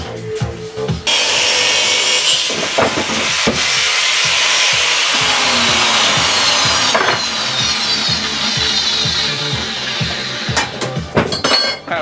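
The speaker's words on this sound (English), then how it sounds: "Grinder." An angle grinder cuts a steel bracket plate during a Razor E300 scooter front motor and brake disc upgrade, giving a loud continuous grinding whine that runs for several seconds, changes tone midway and is broken by clinks and scrapes.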